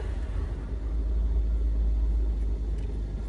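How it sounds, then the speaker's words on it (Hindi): A car engine vibrating as the clutch is partly released during a driving lesson: a close, steady, deep engine rumble throbs continuously with no rise in revs and no speech. "इंजन वाइब्रेट करने लगा"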